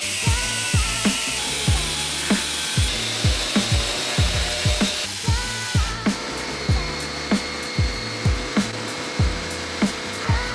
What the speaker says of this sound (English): I'm actually literally just gonna cut this out, section this out, then move this in.